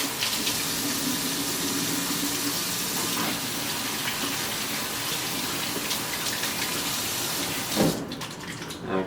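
A kitchen tap runs in a steady, loud gush while hands are washed after handling raw meat, then cuts off near the end.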